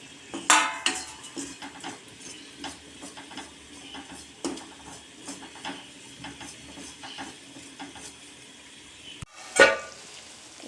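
Chicken frying in a pan with chilli, coriander, garam masala, pepper and turmeric, a soft sizzle under sporadic clinks and scrapes of a spoon against the pan, with a couple of louder knocks.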